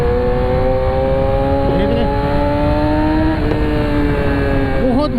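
Yamaha R6 600cc sport bike with a quickshifter, engine wailing loud and close under hard acceleration, its pitch climbing then dropping sharply at clean upshifts around two, three and a half and five seconds.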